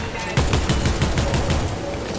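Rapid bursts of shotgun fire from a battle-royale video game clatter close and loud in quick succession, blending into a dense fusillade for about two seconds.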